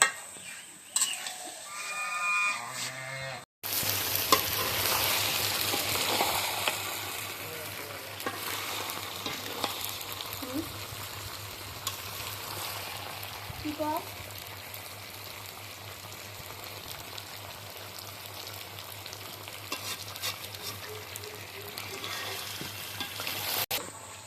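Meat sizzles and fries steadily in a pan while being stirred, with occasional scraping of the spoon and a low background hum throughout.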